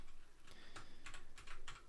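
Rapid keystrokes on a computer keyboard while coding PHP, with clustered clicks in an uneven rhythm, close and fairly quiet against a steady background hiss.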